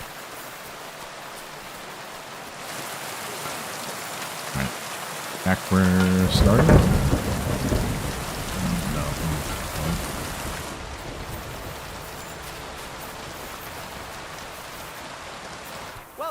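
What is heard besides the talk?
rain in the video game Kingdom Come Deliverance II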